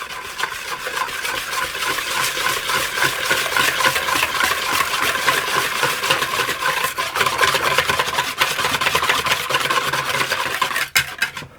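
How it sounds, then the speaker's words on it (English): Steady, fast scraping and rubbing of a whisk against a bowl as ingredients for a moist chocolate loaf cake are mixed, continuous and close for about eleven seconds before stopping abruptly near the end. "And I'm going to whisk those together."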